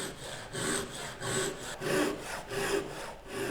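A hand saw cutting dovetail tails freehand in wood: steady rhythmic rasping push and pull strokes, about two per second, close and moderately loud, with no voices.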